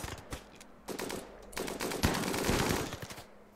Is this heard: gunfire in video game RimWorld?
yes